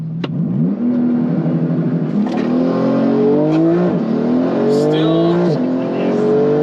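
A Porsche GT2RS without its rear wing accelerates hard on a quarter-mile launch run, its engine note rising loud and close through several gear changes, each shift marked by a drop and fresh climb in pitch.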